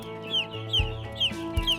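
Chickens clucking in a poultry house with feed hoppers and nipple water drinkers, several short rhythmic clucks repeating about every half second, close and clear with no talk.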